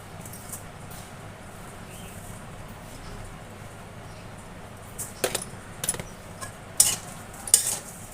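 Semai vermicelli and sugar stirred in a pan with a utensil: soft scraping under low sizzling, turning into a few sharper scrapes and clinks of metal against the pan toward the end.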